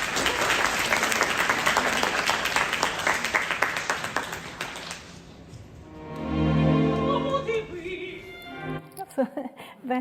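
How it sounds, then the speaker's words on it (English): An opera audience breaks into loud, dense applause during a performance recording. It fades after about five seconds as sustained sung and orchestral tones return. "Unfortunately, the applause interferes here"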